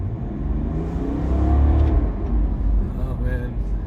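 An Ineos Grenadier Trailmaster engine revs loudly and close by, a deep rumbling roar that swells and holds steady with a gravelly, throaty tone.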